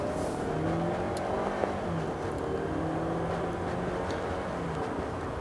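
A 2013 Kia Optima SX-Limited on 18-inch wheels accelerating, heard from inside as a steady engine drone with a rising whine and road noise, continuous and fairly even throughout with no talking.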